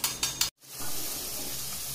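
Sugar and spice syrup for cassava chips is stirred in a pan: three quick spoon clinks against the pan, a brief gap, then a steady close bubbling sizzle with no talk.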